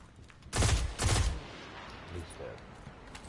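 A pulse rifle fires at an ogre in Destiny 2, two loud close bursts of rapid shots, then quieter game ambience while someone talks over it.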